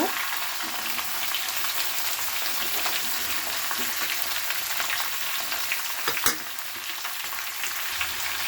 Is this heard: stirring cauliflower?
yes